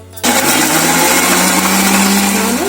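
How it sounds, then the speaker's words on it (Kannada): A kitchen mixer grinder blending tomato, ginger, garlic and green chillies starts abruptly and runs as a loud, steady whirring motor drone right up close, with no voices. "ಈಗ ಮಿಕ್ಸಿ ಮಾಡ್ಕೊಂಡು ಬರೋಣ. ನುಣ್ಣಗೆ ಇದನ್ನ ಮಿಕ್ಸಿ ಮಾಡ್ಕೊಂಡು ಬರೋಣ."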